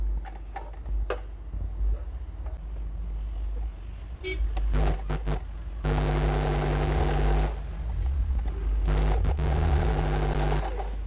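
A sewing machine stitches blouse fabric in two sustained motor bursts of steady whirring with a buzzing hum, set between quieter handling clicks and low background rumble.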